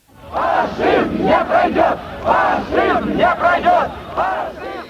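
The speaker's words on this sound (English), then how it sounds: "Crowds gathered outside the Soviet parliament shouting, "Down with fascism! Down with fascism!"" A crowd outside the Soviet parliament in Moscow during the 1991 coup chants an anti-fascist slogan in loud, rhythmic bursts, many voices rising and falling together in repeated phrases.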